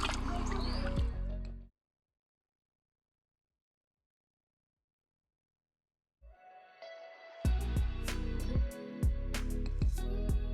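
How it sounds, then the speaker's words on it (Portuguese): Water drips and squishes out of wet material after a long pause, with close irregular drips and trickles, several sharper splats, and a faint brief voice at the start. "Ó, ele vai soltando a água."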